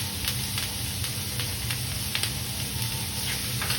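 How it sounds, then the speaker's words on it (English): Butter melted with garlic, thyme and rosemary sizzles steadily in a hot pan as it is spooned over seared meat, with light repeated splashes and crackle throughout. "some butter, butter melt, and just baste it. Keep basting it."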